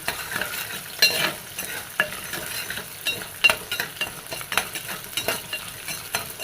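Shallots fry in a pan for a ginger curry, giving a soft, steady sizzle. Light, irregular clinks and scrapes from stirring sit close but quiet over it, and no one speaks.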